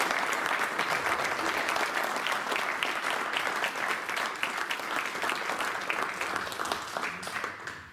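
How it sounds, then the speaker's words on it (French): Sustained audience applause at a testimonial talk for the Clermont-Ferrand branch of La Cravate Solidaire, dense even clapping from a room full of people that keeps going steadily and tapers slightly at the end. "C'est pas moi que vous devez applaudir"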